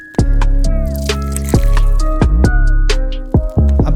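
Soft drink poured as a sound effect: a run of wet drips and liquid splashes with a bubbly, squishy character, close and loud, with no talking.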